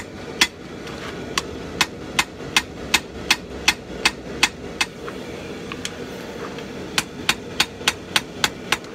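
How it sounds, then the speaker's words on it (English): A dog's head hammer strikes a Viking seax blade on the anvil while forging the edge bevel, sharp ringing blows repeating at a steady rhythm, close and loud, about twenty strikes with a brief pause midway. "Now it's time to lay in the edge bevel, so I got my dog's head hammer."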